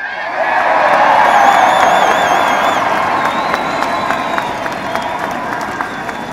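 Big crowd at a Romney campaign rally at Fiddler's Green cheering and applauding, a loud sustained roar of clapping, whoops and whistles that slowly eases off.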